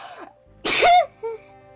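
One sharp, loud sneeze bursts out in the middle, followed by a short vocal tail, with quiet moments on either side.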